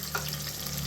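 Mustard seeds, curry leaves, garlic and onion fry in hot oil for tempering, giving a brief, steady close sizzle with no talk.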